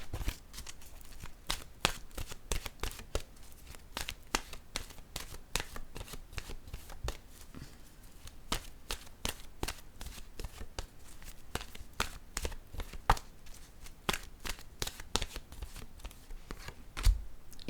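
Oracle cards are shuffled by hand in a steady run of crisp riffling snaps and soft slaps that repeat quickly and evenly for many seconds, close up and alone, with no talk over them.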